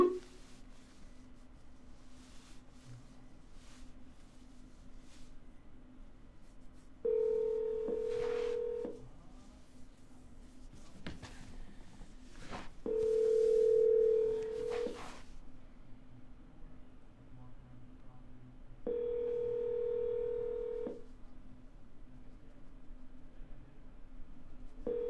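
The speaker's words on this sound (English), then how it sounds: "So let's give him a ring, actually." Touch-tone keypad dialing followed by three separate steady ringback tones, each lasting about two seconds with gaps between, as an outgoing phone call connects over a quiet line.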